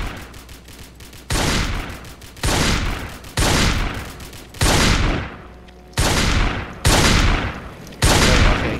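Assault rifle fire in the Roblox game Mechanism, seven loud separate bursts spaced about a second apart, each sharp and sustained briefly before cutting off, with no talk over them.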